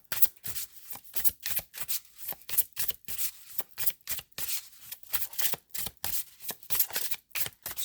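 Tarot cards shuffled by hand, a steady rhythm of quick riffling bursts separated by short pauses, close and fairly quiet with no talking.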